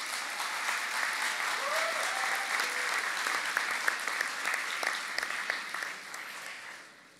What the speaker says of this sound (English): I want you to give her a huge round of applause